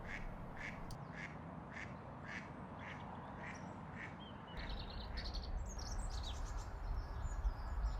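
Ducks quack in a steady, evenly spaced series near a mink den outdoors. Later, louder water and rustling noise builds underneath and a few scattered bird calls join in.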